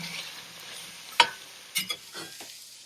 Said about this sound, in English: Stir again.